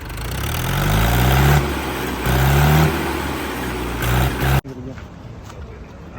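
An Indo Farm 3060 tractor engine revs hard in repeated bursts, rising and falling close by, then cuts off abruptly near the end, with a few voices around it.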